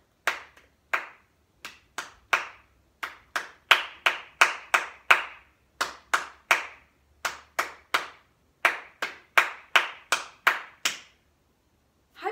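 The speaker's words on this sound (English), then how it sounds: "That's the only thing we're gonna hear out loud is the clapping" Hand claps tapping out the syllable rhythm of the words "apple tree" in a music lesson, sharp and close, in short repeated groups with brief pauses between phrases.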